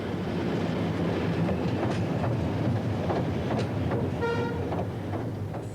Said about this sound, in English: Back come the test engines.